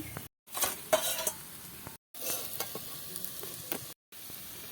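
Kulekhara leaf chops frying in oil, with a soft continuous sizzle broken by nearby spatula scrapes and utensil clinks as pieces are turned and lifted out, with short silent cuts between.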